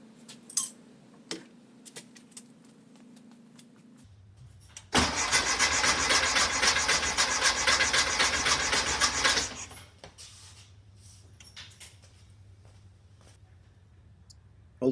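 After a few faint clicks, the engine of a 1964 Karmann Ghia cranks loudly for about five seconds while the fuel line feeds a jar. A low mechanical hum then lingers once the cranking stops.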